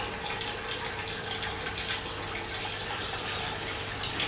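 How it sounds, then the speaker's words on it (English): Water pours steadily into the sump tank and vertical grow tower of a 500-liter aquaponics system, a continuous close splashing rush that stays level throughout, with no talking. "One goes to the vertical over here. The water goes in there"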